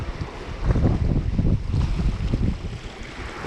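Side wind buffeting a fishing boat at sea, a gusty rumble of wind with some water wash, close and loud against the microphone, no voices.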